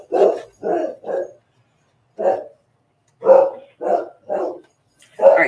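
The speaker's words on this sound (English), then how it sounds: "Where are you barking at?" A dog barks loudly nearby in short bursts: three quick barks, a pause, one more, then a run of four, with silence between.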